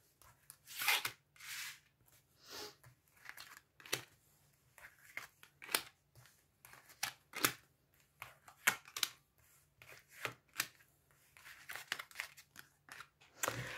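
Oracle cards being shuffled for a card draw, a quiet, close run of crisp riffling and slapping bursts in an irregular rhythm, with no talking.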